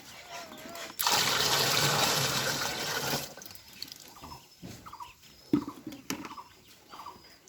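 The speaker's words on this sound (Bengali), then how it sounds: "পাঁচ লিটারের সাথে ফার্মেন্টের পানির সাথে পাঁচ লিটার পানি যোগ করছি" Water pours into a fermented poultry feed mix in a steady splashing stream for about two seconds, then stops, followed by faint trickles and drips while fowl call in the background.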